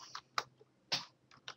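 Sparse, quiet keystrokes clack on a computer keyboard while code is typed, a few isolated taps in an uneven rhythm with short pauses between them.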